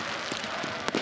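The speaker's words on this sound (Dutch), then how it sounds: "Vuurwerk." Fireworks at a football stadium before an FC Utrecht match against Sparta, a few sharp cracking bursts popping over a dense crowd wash, with one stronger bang near the end.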